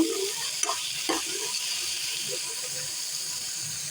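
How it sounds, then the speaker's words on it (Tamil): Two large tomatoes sautéing in a pan for paneer gravy give a steady soft sizzle with a couple of stirring scrapes, close and continuous, with no talk. "பெரிய சைஸ் தக்காளி வந்து ஒரு ரெண்டு எடுத்து வச்சுருக்கேன் அதை சேர்த்துக்கலாம் நல்லா வதக்குங்க"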